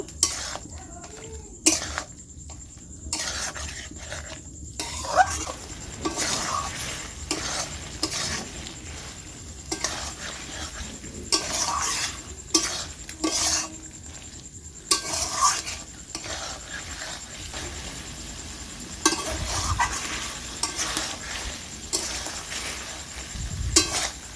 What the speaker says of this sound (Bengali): আমি আর কিছুক্ষণ এটা কষিয়ে নেব